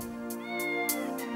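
A stray cat in a comedy film meows in a series of clear, tonal cries, close and distinct, with no voices over it.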